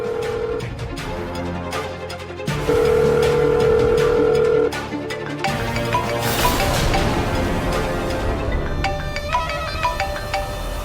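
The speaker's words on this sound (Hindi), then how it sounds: "फोन किसका बज रहा है?" A phone rings with a loud, repeating electronic ringtone melody close by, with no one talking over it.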